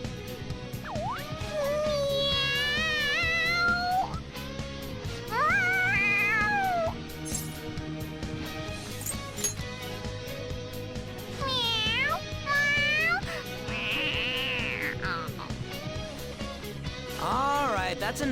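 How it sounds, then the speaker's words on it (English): A cat in the Persona 5 Royal video game meows excitedly in repeated rising, wavering calls, loud and close, with short pauses between bursts over a steady musical background. "The cat's acting awfully excited."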